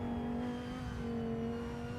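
Race cars cross the start-finish line at the Nurburgring 24 Hours, a steady loud engine drone with a sustained tone and constant roar, no break and no talk.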